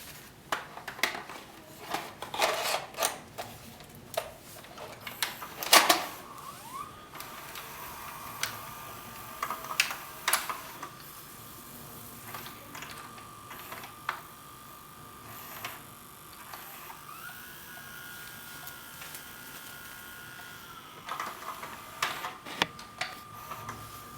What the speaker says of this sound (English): This is the finished tape. It needs to be rewound,